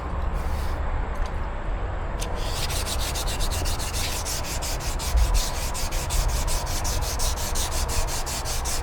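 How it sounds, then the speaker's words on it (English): Steady rhythmic scrubbing of wet sanding primer on a Sportster Ironhead motorcycle part, close and continuous, a gritty rubbing stroke repeating over a low background hum. "I'll be wet sanding maybe 2 to 3 coats of it off."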